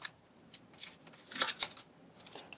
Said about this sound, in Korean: 그러면 두 분의 결과 카드 2장을 뽑아볼까요?